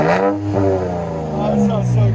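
Toyota Tacoma with a 3.5L V6 and Black Widow exhaust revs smoothly and steadily, a loud, continuous engine note with rising and falling pitch, close by, while a voice talks over it.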